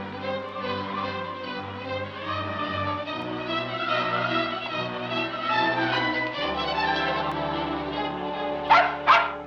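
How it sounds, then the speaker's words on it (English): A dog gives a couple of short, sharp barks close by near the end, following a long stretch of sustained orchestral film music that carries on beneath them. "Whose dog is this?"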